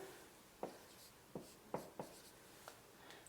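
A pen or pencil makes a handful of short, faint scratching strokes on paper at a quiet desk, spaced irregularly over a few seconds.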